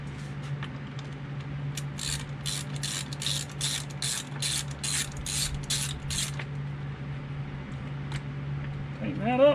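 A 10mm socket ratchet tightens a screw on a Stihl HL94K hedge trimmer in a garage, a steady series of about a dozen close, crisp ratcheting clicks over a low machine hum.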